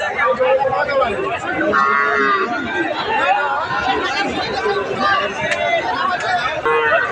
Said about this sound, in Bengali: রয়েছে দিনাজপুর জেলার কাহারুল হাটে গাভী এবং বাছুর